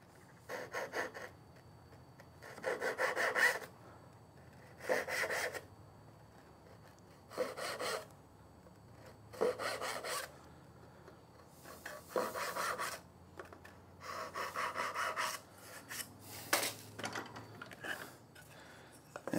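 A hand saw cuts through wood held in a vise for dovetail joints, about eight rasping stroke bursts in an uneven rhythm, close and clear with short pauses between them and no talk.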